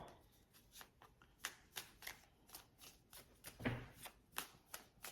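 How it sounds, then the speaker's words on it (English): Tarot cards are shuffled back into a deck, giving a quick run of soft, crisp riffles and slaps in an irregular rhythm, heard close but quietly in an otherwise hushed room. "They're having a hard time like shuffling back into the deck."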